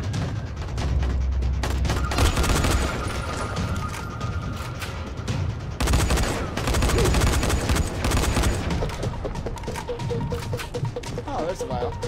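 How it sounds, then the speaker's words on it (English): Gunfire crackles through a tense moment in the zombie survival game Dying Light: The Following, with repeated shots and bursts layered over dense in-game action and noise for the whole stretch, while a player talks over it. "Where am I getting shot at?"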